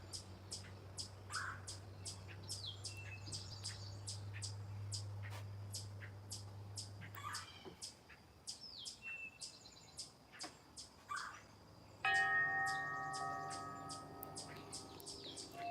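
A chipmunk chatters in rapid, repeated high chips near a backyard bird bath under a gutter drip, steady and fairly faint, with birds calling around it and a brief low hum early on.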